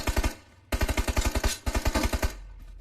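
Automatic gunfire in PUBG Mobile rattles out in three rapid bursts of evenly spaced, loud, punchy shots with brief pauses between them.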